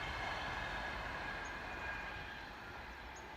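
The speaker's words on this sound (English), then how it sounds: "We'll wait for the train." A train rumbles past in a steady, broad, moderately loud roar with faint high metallic squeals, continuous for the whole stretch and easing slightly toward the end, with no talking.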